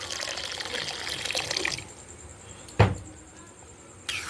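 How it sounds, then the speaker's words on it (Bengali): Water pours into a cooking pot holding boiled peas and potatoes, a splashing gush for about two seconds that then stops, followed by two sharp knocks or clanks against a quiet background. "আর একটু পরিমাণ মতন জল দিলাম"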